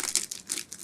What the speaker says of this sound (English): I'm going to secure that plastic bag to the top of my jar,